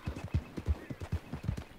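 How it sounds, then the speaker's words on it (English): Rapid clip-clop of a horse's hooves in Red Dead Redemption 2, a quick, even galloping rhythm of muffled thuds that stays fairly close and moderately loud, with no clear neigh. "Oh no, I need that! Come back, horse!"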